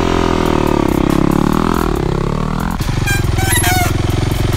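A Yamaha YZ250F dirt bike engine drones loudly and close, its pitch swelling then dropping sharply as the rider brakes hard for a stoppie, then settling into a lower idle-like rumble.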